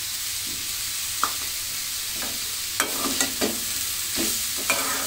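Cooked chicken and chopped cabbage stirred in a pan, a soft continuous sizzle broken by several scraping, clattering strokes of the spoon, close and alone.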